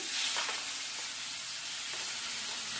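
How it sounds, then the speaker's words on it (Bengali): Onion fries in oil in a pan for a fish curry, giving a steady, fairly quiet sizzle with a few soft stirring scrapes and no talking. "পেঁয়াজটা একটু লাল লাল ভাজা হবে তারপরে আদা রসুনের পেস্টটা দেবো"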